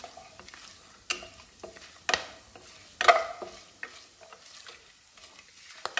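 Whole cloves, cardamom and cinnamon roasting in a pressure cooker, heard as a quiet dry stir with scattered light scrapes and small ticks, a few sharper stirring knocks standing out, no voices.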